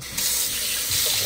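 Pork being washed under running tap water to rinse off baking soda: a steady, close splashing stream gushing into a sink without pause.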